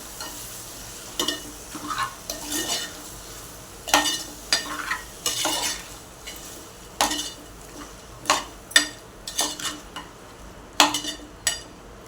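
Prawns and brinjal stirred in a pan for a spicy prawn curry, a spoon scraping and clinking repeatedly in uneven strokes over a soft, steady sizzle, close and fairly loud.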